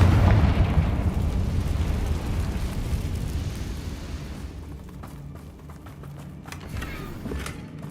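The Confringo fire spell from the Hogwarts Legacy video game sets off a heavy booming explosion that decays into a long rumbling tail with scattered crackles and debris pops.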